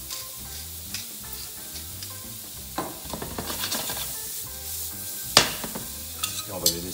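Mushrooms and bacon lardons fry in butter in a pan, a steady soft sizzle with occasional stirring scrapes and a few sharper crackles toward the end, close up with no talk.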